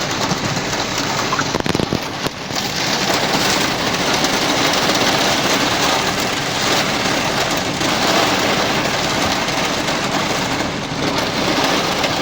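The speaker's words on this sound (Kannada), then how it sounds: "ಮಳೆ ಬರ್ತಾ ಇದೆ ಹಾಗಾಗಿ ಓಪನ್ ಮಾಡ್ತಾ ಇಲ್ಲ" Steady heavy rain drums on the closed sunroof and roof of a Maruti Suzuki Grand Vitara hybrid, a dense, constant patter that never lets up, with no voices.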